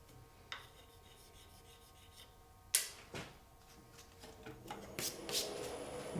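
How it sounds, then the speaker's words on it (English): Chalk rubs across a freshly glued wood veneer surface on a compound curve, soft scraping strokes with a few sharper scuffs, quiet and close with no talk. "So I'll chalk these up a bit."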